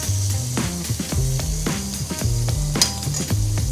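A rack of lamb sears in a pan with a loud, continuous sizzle. Light metallic clinks of utensils come through, and background music with a low melody plays underneath.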